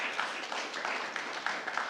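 An audience at a stakeholder roadshow claps briefly, a soft, even patter of many hands heard at a distance for about two seconds, with no voices on top.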